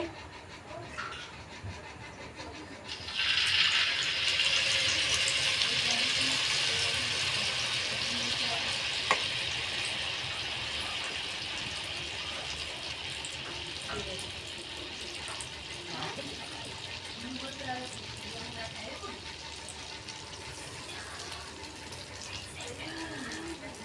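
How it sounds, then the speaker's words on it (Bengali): Malpua batter frying in hot oil, a loud sizzle that bursts in suddenly and then settles into a steady, slowly fading hiss close by. "এই দেখো মালপোয়া ভাজছি।"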